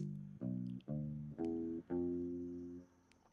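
A handful of deep plucked bass notes in a short sequence, each ringing warmly, the last one held and fading out.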